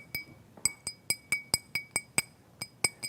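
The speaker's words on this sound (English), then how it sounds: "you hit a glass with water in it." A glass holding water is struck again and again, giving about a dozen bright, ringing clinks at an uneven, unhurried pace, each one close and clear with a short decay, and no talking.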